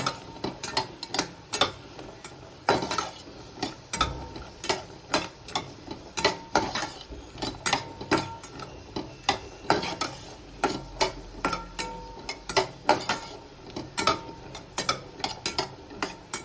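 Spiced cashews roasting in ghee in a hot kadai, stirred constantly with a spoon: a quick run of sharp scraping ticks and clinks against the metal over a faint sizzle, close and alone.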